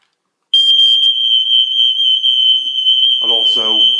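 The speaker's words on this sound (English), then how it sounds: "with a working smoke alarm" A working smoke alarm mounted on a white painted plaster ceiling sounds a loud, steady piercing tone that starts abruptly and holds without a break, with a voice talking over it near the end.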